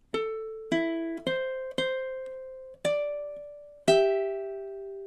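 A ukulele is plucked through measure 3, with six separate picked notes ringing and overlapping in an unhurried rhythm. Each note is clean and close, with a slightly stronger final note that fades out alone.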